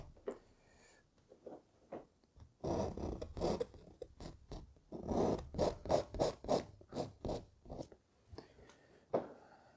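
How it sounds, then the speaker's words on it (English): A painting tool scratches out wet oil paint on a canvas in a landscape painting, with repeated close, quiet scraping strokes in short bursts and brief pauses between them. "The nice thing about scratching out the color"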